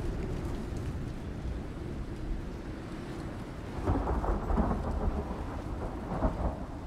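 Thunder from a lightning storm in the game Icarus rolls as a deep rumble over steady rain, swelling louder midway, with no speech.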